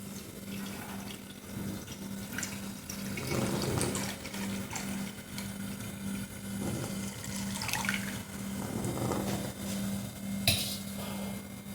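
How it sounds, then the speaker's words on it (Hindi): Heated milk, one litre, poured into a kadhai over a medium gas flame, a steady liquid splashing and gurgling with occasional clinks of the pot, close and moderately loud. "जो हमने दूध गर्म किया था वो हम इसमें डाल देते हैं।"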